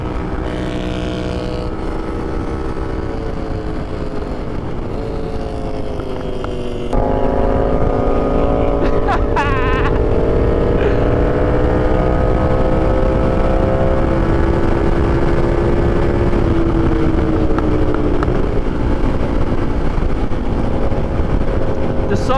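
A KTM 1290 Super Duke motorcycle rides at speed, its engine a loud sustained droning hum that shifts pitch gradually under heavy wind rush, with a brief jump in level partway through.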